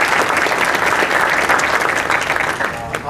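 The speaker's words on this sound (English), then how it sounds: "Just a round of applause for you guys for all that you guys" An audience at a pharmacy white coat ceremony gives loud, sustained applause with dense, steady clapping throughout and a slight dip near the close.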